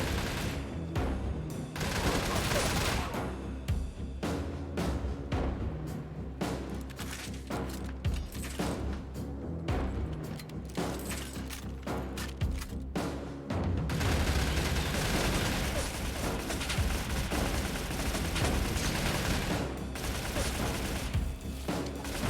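An RPD machine gun fires in the StalCraft video game, rapid sustained bursts with short pauses between them, loud and close with booming impacts and mechanical clatter mixed in.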